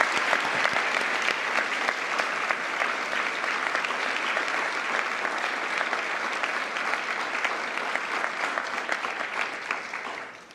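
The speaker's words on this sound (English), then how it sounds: "Please, another round of applause." Sustained applause from a large audience at an awards ceremony honoring women of courage, dense steady clapping that holds for several seconds then tapers off.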